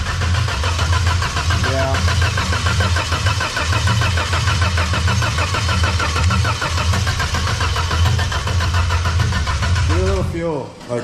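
An old engine with every cylinder full of oil cranks hard and labors, a loud steady churning that drives a rhythmic pulsing throughout, with a voice speaking briefly near the end.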